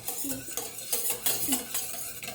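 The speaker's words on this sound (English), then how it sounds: "you just mix in the yolk again" A utensil stirs egg yolk into rainbow pancake batter in a bowl, giving quick repeated scraping taps and soft clinks at close range, with no talking.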